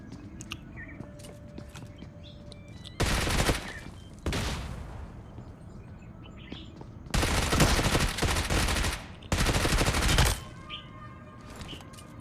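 Gunfire in the mobile battle-royale game BGMI rings out in four loud automatic bursts, each lasting about a second, separated by quieter stretches with faint ambient game sounds.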